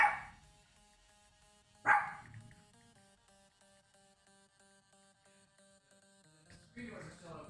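Several dogs bark in short bursts at a house door, wanting to be let back inside, with loud barks at the start and near two seconds and more at the end, over quiet talk and a faint steady hum.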